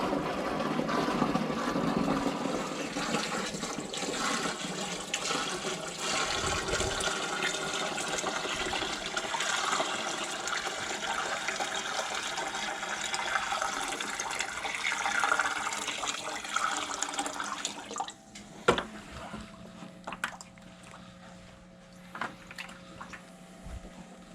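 Water poured back into a home aquarium during a water change: a steady, close gushing and splashing that runs continuously for most of the stretch, then stops and leaves scattered drips and small splashes.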